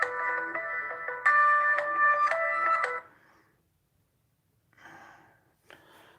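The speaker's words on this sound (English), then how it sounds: "of course my phone's ringing." A phone rings with a bright electronic tone pattern for about three seconds, then goes silent before a couple of faint breathy sounds follow.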